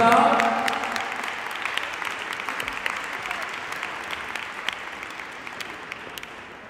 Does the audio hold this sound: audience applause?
yes